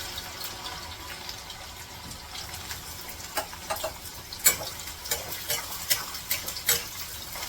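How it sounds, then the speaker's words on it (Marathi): Okra (bhindi) frying a few pieces at a time in hot oil, a soft continuous sizzle with scattered crackles and pops growing busier toward the end, close but fairly quiet, no voices. "ही थोडी थोडी भेंडी अशी करून मी तेलामध्ये तळून घेणार"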